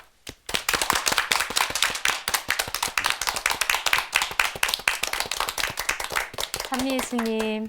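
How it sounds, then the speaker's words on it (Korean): A studio audience at a Korean Catholic broadcast gives dense, brisk clapping that rises sharply and runs steadily to welcome a nun as guest, then gives way to a voice at the end. "박수로 모시겠습니다"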